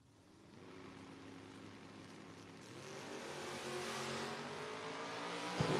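A Mustang and a Camaro on a drag strip, engines droning and building steadily in volume as they run, a distant, sustained roar of race cars with harmonic tones rising toward the end.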